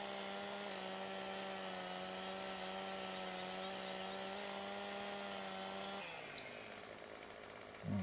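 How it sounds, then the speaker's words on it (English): A chainsaw in a farming game drones loudly and steadily for about six seconds as trees are cut, then the engine winds down and the pitch drops toward the end. "Get the chainsaw out"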